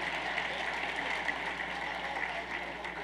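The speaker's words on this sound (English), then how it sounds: "Let's give another round of applause for them." Steady, dense applause fills the room for a group of American college football assistant coaches at an awards broadcast, unbroken and fairly loud, with no talk over it.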